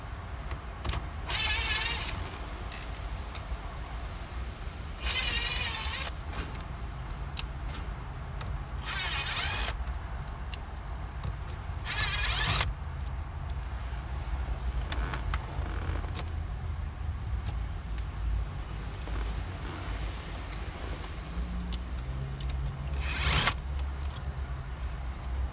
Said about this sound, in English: first, I'm going to pop out these 6 screws here.